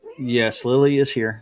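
Lily the cat meows twice in quick drawn-out cries, loud and close, while a person talks over and between the calls.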